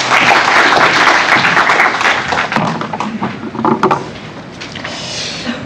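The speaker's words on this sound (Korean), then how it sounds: "박수 부탁드리겠습니다" A seated audience at a startup idea forum claps in a dense, loud burst that thins into scattered claps and fades out.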